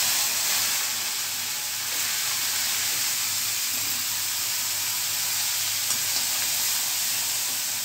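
Garlic and asafoetida sizzling in hot oil for a Gujarati tempering, a loud continuous hiss that holds steady from start to finish, close to the pan with no voices.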